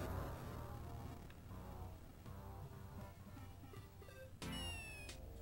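A cartoon cat meows in Wario Land 4 on the Game Boy Advance, its chiptune cries heard over steady game music, with a brighter burst of sound near the end.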